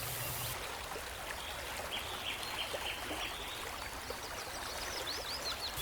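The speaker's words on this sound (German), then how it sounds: "Rauschen des Wassers wie seit Tausenden von Jahren." Rushing water of the Nile river flows steadily, a soft continuous wash and trickle heard from a distance, with faint bird calls scattered over it.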